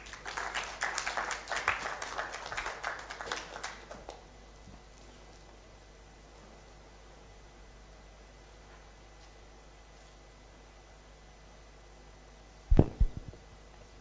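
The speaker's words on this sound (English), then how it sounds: "Another round of applause for him" Applause for the speaker at the Afritex 2015 event fills the first four seconds as dense, fairly loud clapping from an audience, then fades to a quiet room hum, with a brief sharp clatter near the end.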